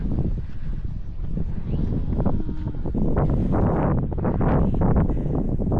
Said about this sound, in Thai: ลมมันก็จะแรงแรงลมก็จะเย็นๆนะ